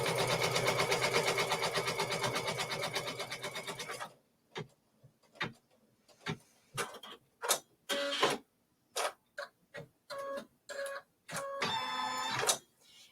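Sewing machine stitching down white fabric wings on a mosaic flying geese quilt block: a steady, fast mechanical whirr for about four seconds, then a series of short, separate stitching bursts with pauses between them.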